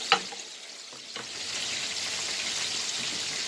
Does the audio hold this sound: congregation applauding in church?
no